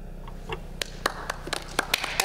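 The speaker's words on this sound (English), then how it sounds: "And another hand clap." A single round of hand clapping at a school board standing committee meeting, a scattering of sharp claps spread over a couple of seconds against a quiet room hum, modest in loudness.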